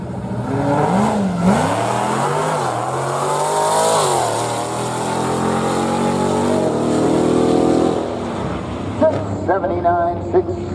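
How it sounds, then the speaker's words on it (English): A Dodge Charger Hellcat makes a drag racing pass at Barona Drag Strip, its engine roaring loudly with rising and falling revs before fading, while an announcer talks over the sound. "Keith Messini from Lakeside in the Charger Hellcat."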